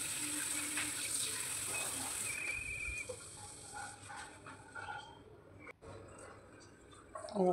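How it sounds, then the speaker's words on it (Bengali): Cold water runs and splashes into a vessel to soak spinach for palak paneer in a home kitchen, a steady rushing flow for the first couple of seconds before fading into quieter handling sounds, with some voice nearby. "তারপর ঠান্ডা জলে আমি ভিজিয়ে দেবো।"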